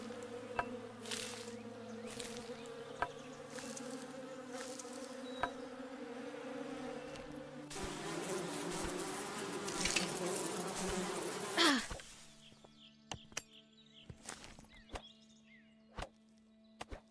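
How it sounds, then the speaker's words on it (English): Bees buzzing in the western survival video game Above Snakes, a droning insect hum that swells into a dense loud swarm midway, then thins to sparse buzzes with sharp clicks and knocks. "let's go get stung by bees."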